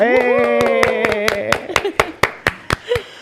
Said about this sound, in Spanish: comenzamos este podcast con un gran aplauso